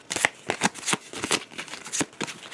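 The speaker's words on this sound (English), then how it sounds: "take these 3 cards and we shuffle them" Three game cards from a Myth: Dark Frontier tabletop session are shuffled by hand in a series of quick, crisp riffling bursts, close and fairly loud with short pauses between.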